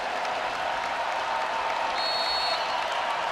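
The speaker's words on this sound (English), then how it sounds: "Crowd beginning to get into it now at the Bob Devaney Sports Center." A packed arena crowd at the Bob Devaney Sports Center roars and claps through a tense fourth set of a Nebraska vs Kansas women's volleyball match, a loud, continuous wash of noise with no break.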